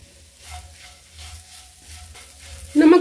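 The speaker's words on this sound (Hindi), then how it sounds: "1 मिनट हो गए हैं, मसाला भी अच्छे से भून गया है।" Masala spices frying in a pan over a gas flame, a soft steady sizzle with faint stirring, then a louder sudden hiss near the end.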